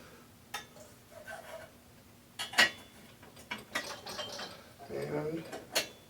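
A bicycle headset press tool being turned and tightened on a frame with staggered bearing cups, giving scattered metallic clicks, ratcheting clanks and a few louder knocks, close by with a faint voice murmuring at times.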